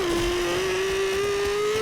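An engine whines in a motorcycle chase in the video game Katana Zero, one steady, loud tone that climbs slightly and holds throughout, with no voices.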